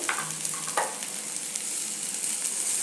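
Tomatoes go into okra frying in a pan, with a gentle continuous sizzle and a few soft clinks and scrapes of stirring, fairly quiet and close throughout.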